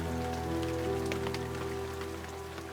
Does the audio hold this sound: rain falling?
yes